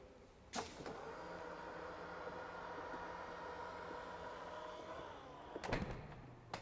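Air suspension on a Range Rover Sport PHEV lowering the rear of the car: a steady mechanical whir and hiss runs for about five seconds between a click at the start and a clunk at the end, with no talking.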